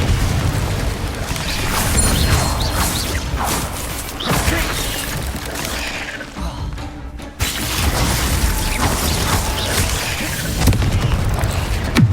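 A Confringo spell blast in Hogwarts Legacy: loud booming explosive bursts and whooshes over dense, continuous combat noise, with a brief lull midway before the rumbling clamor resumes.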